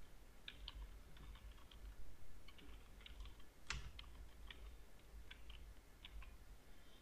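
Soft, quick keystrokes tap out text on a computer keyboard in an uneven patter, faint and close against a quiet background hiss, with one sharper click partway through and no voices.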